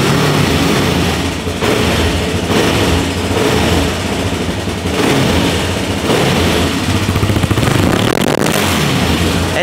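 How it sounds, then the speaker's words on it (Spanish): A Kawasaki LTZ400 quad's engine runs loudly and close in a garage, its rough, throbbing idle rising and falling in repeated surges as the throttle is blipped. "un LTZ400, vamos a arrancarlo para que lo escuchéis"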